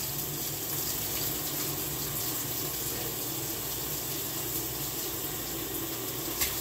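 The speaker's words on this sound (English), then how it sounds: "And then I kind of just rinse the little cup out a little bit" Tap water runs steadily into a small measuring cup as it is rinsed out while doing laundry, a continuous close splashing hiss with no talking.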